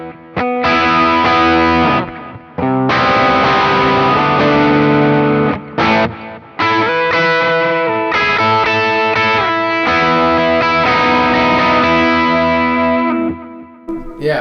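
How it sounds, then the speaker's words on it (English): An electric guitar plays through a King of Tone pedal in distortion mode, loud driven chords and sustained notes with brief pauses between phrases, alone without speech. "comparing it to something like the King of Tone in distortion mode, let's just try that"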